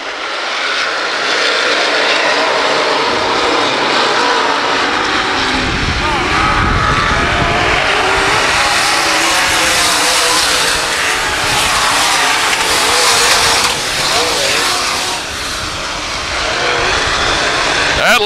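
A field of race cars roars away at the start of a race at Valley Speedway, engines building to a loud, sustained throaty drone while an announcer talks over it.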